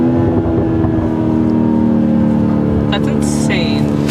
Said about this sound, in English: There's something about this engine too. This engine just sounds so good.